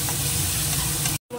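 Garlic paste frying with already fried onions in a pan, a close, even sizzle with soft stirring scrapes, cutting off abruptly to silence for a moment near the end.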